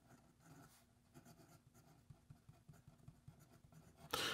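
Ensso Piuma fountain pen with a medium nib scratching across paper in quiet, rhythmic strokes, faint and close, ending in a brief louder rustle.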